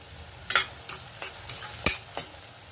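Onion frying in a pan while being stirred, several sharp scraping strokes of a spoon against the pan over a low, steady sizzle, close up.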